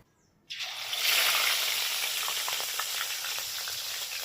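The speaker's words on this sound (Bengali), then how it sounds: "তেলটা একদম খুব গরম করে নিয়েছি মাছ ভাজার জন্য প্রথমে দুটো মাছ দেব তারপরে দুটো মাছ দেব" Katla fish pieces dropped into very hot oil, a sudden loud burst of hissing sizzle after a quiet moment that settles into a steady, close spitting fry with small crackles.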